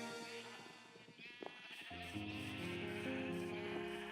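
Sheep bleat repeatedly in a farm area of a video game, clear and fairly close, with a steady layered ambient tone beneath and no talking.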